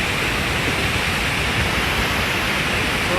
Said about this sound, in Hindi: यहाँ पे पानी का भाव भी बहुत तेज़ है। आवाज़ से आपको पता लग रहा होगा